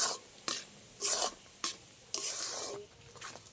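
Gujiya dough being stirred in a pan over low heat, heard as a series of rough scraping strokes in an uneven rhythm, close and fairly loud, with quiet gaps between them.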